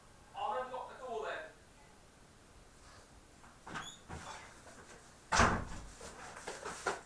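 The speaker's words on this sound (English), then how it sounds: "I'll unlock the door" A door is unlocked and opened with a couple of clunks and a louder bang near the end, heard close in a room while someone speaks briefly at the start.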